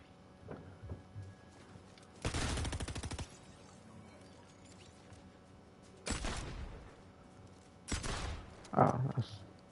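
Gunfire in a video game: three separate rapid bursts of automatic shots, each lasting about a second, sharp and fairly loud against a quiet background, with a short vocal sound near the end.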